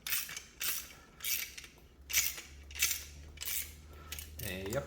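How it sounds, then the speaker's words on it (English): A sight tool working on a Glock 30 SF pistol sight, producing a steady series of about seven evenly spaced metallic clicks and ratcheting scrapes, close and fairly quiet, with a brief low rumble near the end. "I'm just going to do it very quickly with my sight tool"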